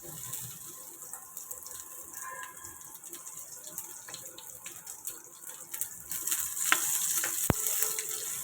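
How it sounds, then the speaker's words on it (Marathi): Onion fries in oil already used for a crab dish, a faint, uneven sizzle with a wet, watery character that swells louder toward the end. "त्याच तेलामध्ये आपण थोडा कांदा भाजून घेऊ."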